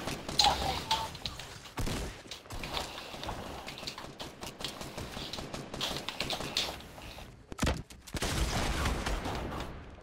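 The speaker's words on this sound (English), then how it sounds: "He just shot me from the back first." Gunfire in an online shooter video game, a rapid scatter of sharp shots with loud bursts near the start and end and a short silent gap near the middle, with no talk over it.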